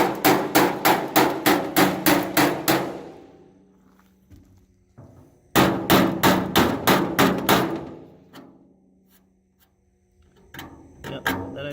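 Two quick bursts of rapid hammer blows on the dented steel fender of a deuce and a half truck, about eight to ten hits each, separated by a quiet pause with faint movement, then scattered clanks.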